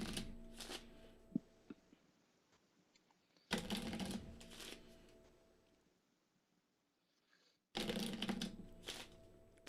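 A deck of cards is shuffled by hand, three separate riffle bursts of quick crisp flutters with quiet handling between them.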